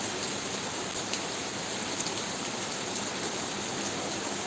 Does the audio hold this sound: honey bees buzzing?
no